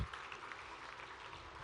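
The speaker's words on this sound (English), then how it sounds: "A big round of applause." Audience applause at the closing ceremony of the 17th Mumbai International Film Festival, a faint, even wash of clapping that carries on for under two seconds.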